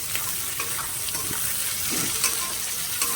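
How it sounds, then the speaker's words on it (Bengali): Chilli and capsicum fry with turmeric in a pan, giving a steady, close sizzle with faint scraping stirs throughout and no talking. "এটাকে এবার ভালো করে অলরেডি ভেজে নিতে হবে।"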